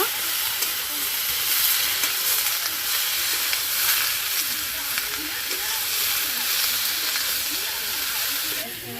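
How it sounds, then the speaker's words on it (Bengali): Small fish fry in hot oil in a pan for a spicy curry, giving a loud, dense, continuous sizzle and hiss while they are stirred. "ভালো করে নাড়িয়ে চাড়িয়ে ঢাকনা দিয়ে রান্না করে নেব।"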